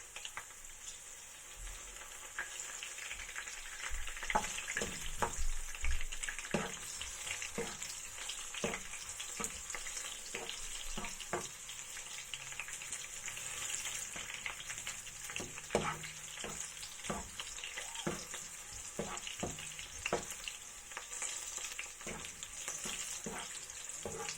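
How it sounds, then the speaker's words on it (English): Garlic crisping in hot oil in a pan for chicken and pork adobo, a soft steady sizzle broken by scattered crackles and occasional stirring scrapes. "the garlic is now starting to crisp."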